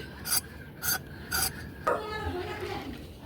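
A boti blade rasps across pointed gourd skin in repeated short strokes, about four evenly spaced scrapes, close and fairly quiet, followed by softer rubbing.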